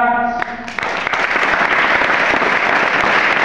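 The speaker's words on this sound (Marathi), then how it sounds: "त्यांच्याकडे टाळ्या मारा." A crowd of students bursts into sustained applause for their teachers at a school farewell gathering, the dense clapping rising after a brief voice and continuing steadily and loudly throughout.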